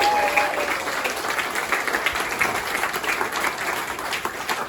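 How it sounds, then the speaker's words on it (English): An audience claps in a steady, moderately loud round of applause during a trolley's grand return celebration in Galveston, Texas, continuing evenly without speech. "So let's have a big round of applause for that."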